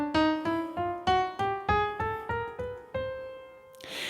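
Piano playing a chromatic scale, a dozen evenly spaced struck notes stepping upward one by one, each decaying before the next, clear and close with no talking.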